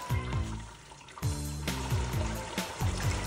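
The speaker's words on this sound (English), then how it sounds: "Get the water flowing." Water rushes steadily through a gold sluice box for flat gold testing, a continuous close splashing flow with a few brief thumps and clunks over it.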